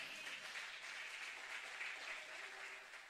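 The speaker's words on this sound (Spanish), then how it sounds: "Dale un aplauso al Señor." Applause fills a church service, a steady, dense clapping from the congregation that holds at an even level for a few seconds.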